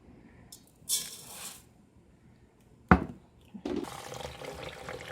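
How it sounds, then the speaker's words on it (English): Rice is washed with water in a pot, close-up splashes and swishes of water coming in short bursts separated by quiet gaps, with a louder sloshing stretch near the end. "we wash the rice out real quick"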